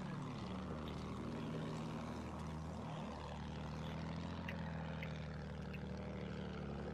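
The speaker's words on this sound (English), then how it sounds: "That's another plane." Propeller plane flying overhead in a war video game full of tanks: a steady, loud droning engine roar with a pitch that shifts slightly as it passes, and no voices.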